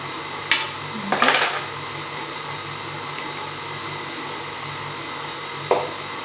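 An electric mixer hums steadily on its lowest speed through carrot cake batter, with a few sharp clinks of the beaters against the bowl.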